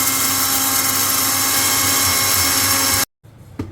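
An electric grinder whirs loud and steady as it grinds lentils (dal), then cuts off abruptly near the end, leaving a brief quiet clatter.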